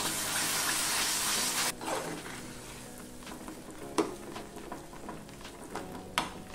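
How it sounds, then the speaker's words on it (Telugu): A cup of yogurt is stirred into a simmering mutton keema kofta curry gravy in a pan: a sizzling wash at first, then soft, scraping spoon strokes with a few sharp clinks, close and fairly quiet. "1 కప్పు పెరుగును వేస్తున్నాను. ఒకసారి బాగా మిక్స్ చేసుకుందాము."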